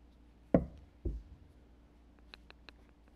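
Scissors trim the ends of an embroidery floss tassel, with two close, distinct snips followed by a few faint, quick clicks, in a quiet room with no talking.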